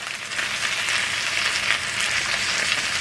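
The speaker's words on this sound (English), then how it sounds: "I'm going to add another little teaspoon there of our tallow. And we're going to let this cook for a little bit while longer." Cajun potatoes and kielbasa frying in beef tallow give off a dense, continuous sizzle and crackle. It is close and steady throughout, with nobody speaking.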